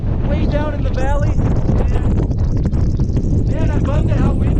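Strong gusty wind buffets the microphone with a loud, constant roar at the 13,114-foot summit of Imogene Pass near Telluride, Colorado, while people talk over the gusts.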